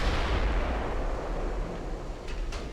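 Naval guns firing shells in Ultimate Admiral: Dreadnoughts during a Hood versus Bismarck battle, heavy rumbling booms blending into a continuous low roar with a couple of sharper cracks near the end.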